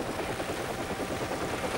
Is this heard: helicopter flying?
yes